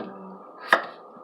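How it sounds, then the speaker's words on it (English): A knife cuts a potato into big pieces for Korean braised chicken, giving one sharp, close chop on a cutting board after quiet handling noise. "We should cut the potato into a big portion"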